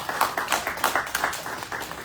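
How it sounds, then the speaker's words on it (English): Audience applause at a heart health talk, a brisk run of fairly even claps from a small group, steady and moderately close. "Everybody give them a big round of applause."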